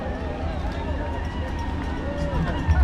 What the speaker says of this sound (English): There's a whole crowd of runners right there.